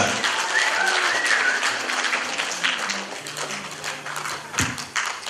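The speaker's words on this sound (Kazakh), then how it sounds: "Ду қол шабаларды қойыңыздаршы" A hall audience applauds at a school grandmothers' pageant, dense steady clapping that holds throughout at close range.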